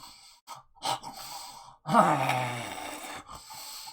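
A voice imitates an old bearded dwarf snoring, with a few breathy inhales and then a long, rasping, groaning snore, close and fairly loud.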